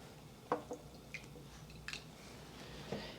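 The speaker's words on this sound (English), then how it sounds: "I'm going to add about a tablespoon of water." A tablespoon of cold water added to cornstarch in a kitchen: a few quiet, separate drips and small wet splashes spaced over a few seconds, faint against low room noise.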